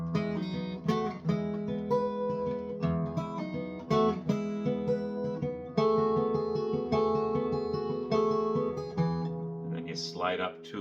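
Acoustic guitar fingerpicking the pattern of a song, ring, middle and index fingers plucking three strings in a rolling reverse order, close and clear with no talking.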